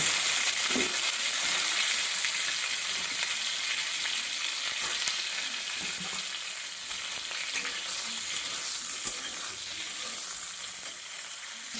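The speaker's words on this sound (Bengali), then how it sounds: "এবার ফুলকপিটা ভাজা করবো ওই তেলেই" Cauliflower pieces fry in oil, making a continuous loud sizzle with occasional pops and light stirring scrapes, close up and with nobody talking.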